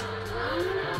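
A kids' ride-on Yamaha R7 mini bike starts up with a steady electric motor hum and a rising whine, continuous and close.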